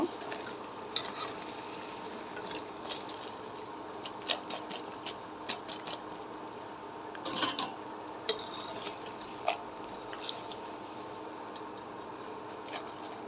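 Steady sizzling of pakon pitha frying in hot oil, with occasional sharp clinks of a utensil against the pan.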